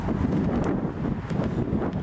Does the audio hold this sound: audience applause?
no